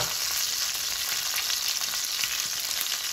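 Thick-cut sirloin steak sears in a hot pan with its fat rendering, giving a loud, steady, close sizzle that crackles continuously without a break and with no voices.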